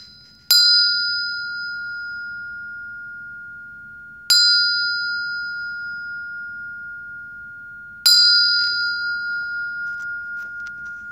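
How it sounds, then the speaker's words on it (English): Meditation bell struck three times at even intervals of about four seconds, each strike a clear, bright ring that sustains and slowly decays, loud and close in a quiet room. "I'll sound the bell."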